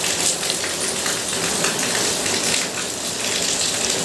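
Light rain patters steadily throughout outside a home, a dense, even hiss of drops with no talk over it.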